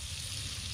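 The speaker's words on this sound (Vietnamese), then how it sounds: "Anh sẽ cho một miếng khoai này vào anh chiên nhá." A potato slice sizzles as it fries in hot oil, a steady close crackling hiss with no talk over it.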